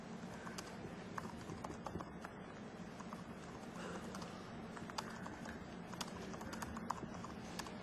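Faint typing of C# code on a computer keyboard, a steady stream of light key clicks over a constant background hum in a conference presentation setting.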